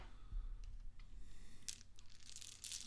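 Hard little clicks and rattles of rune stones knocking together as they are shuffled, arriving in quick scattered bursts over a low background rumble.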